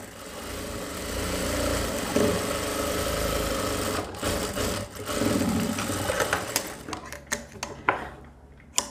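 A sewing machine runs a double line of stitching on a blouse seam, a continuous close motor whir that breaks into short clattering bursts and stops, with a faint voice at times underneath.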